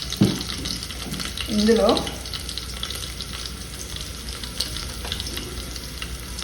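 Sambar masala fries in a little oil in a pan, making a steady, fairly loud sizzle with stirring. A voice speaks briefly near the start.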